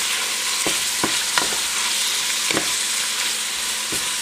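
Meat, added all at once to a pan for Filipino pancit canton stir-fry noodles, sizzles loudly and continuously while spatula scrapes and knocks land every second or so as it is moved around.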